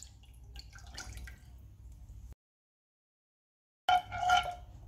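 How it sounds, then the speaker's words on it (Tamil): A cup of water pours into a cooking pot for making rice-flour roti, with a steady, close splashing rush that stops abruptly and then resumes. "ஒரு பாத்திரம் வச்சுட்டு ஒரு கப் அளவு தண்ணி சேர்த்துக்கிறேன்."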